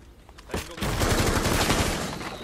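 Sustained automatic gunfire in Rainbow Six Siege, a dense rattling volley starting after a few sharp single shots and running steadily for about two seconds, loud and close without speech.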